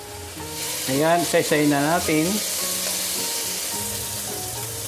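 Pork belly sizzling and frying in a pan of oil while being stirred, a steady loud crackle throughout with a person speaking briefly over it in the middle.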